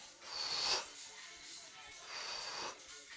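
Breathing during an upper-body workout: two rough, hissing breaths a couple of seconds apart, close but quiet, each rising and fading.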